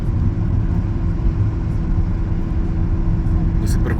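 A car towing an Elddis caravan drives along with a steady, loud, low engine and road rumble that continues evenly throughout.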